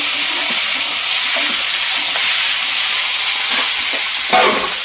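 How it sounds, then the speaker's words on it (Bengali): Potatoes fry in a wok in an outdoor village kitchen, giving a steady, loud sizzle of hot oil with faint scraping and stirring under it, plus a brief louder crackle near the end. "আলুটা আগে ভাজা হোক তারপর মশলাটা দিয়ে দিচ্ছি"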